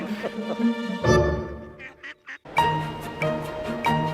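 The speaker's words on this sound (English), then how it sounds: "What about the ducks and the swan?" Ducks quack loudly and close by in a run of nasal calls, with a brief gap before the quacking resumes in a steady series.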